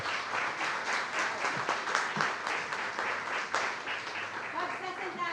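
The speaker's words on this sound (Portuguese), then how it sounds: "Palmas ao Rei." Church congregation clapping together in a steady, sustained round of applause that fills the room, with a few voices mixed in over the clapping.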